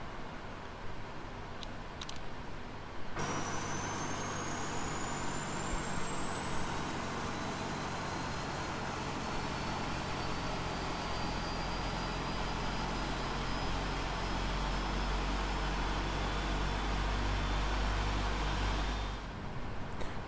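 General Electric engine number 2 of a PMDG 777-200ER in the Prepar3D flight simulator spooling up: a steady loud turbine roar with a high whine rising in pitch, holding for about fifteen seconds before cutting off abruptly.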